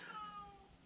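A house cat gives one faint, brief meow on a small farm, a thin tonal cry lasting under a second.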